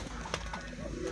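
A white pigeon coos softly, low, muffled calls rising from faint background noise over about a second.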